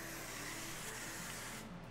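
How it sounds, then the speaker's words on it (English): A steady hissing of cooking spray onto foil runs continuously for nearly two seconds, close and even, then cuts off abruptly. "I'm also going to spray my foil with some cooking spray."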